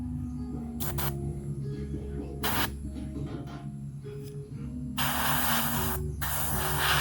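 Silver burst steel paint hisses steadily from an airbrush onto a marble-effect piece, with short bursts early, then a louder, continuous close spray for the final two seconds.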